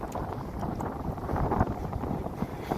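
Gusty wind sweeps across the open sand dunes of White Sands, New Mexico, buffeting the microphone in a dense, continuous rumble that swells and eases slightly without pause.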